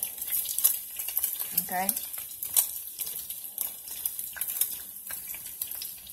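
Garlic sizzles and fries in a pan, a steady soft crackle running throughout with light stirring, while a voice briefly speaks.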